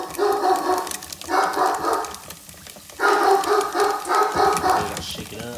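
A dog barks in short bursts of several yips at a time, fairly close and loud, with pauses between the bursts inside a home kitchen while chicken is being prepared.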